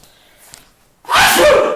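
One loud, close sneeze bursts out after a brief quiet intake of breath, sharp and explosive, then fading quickly indoors.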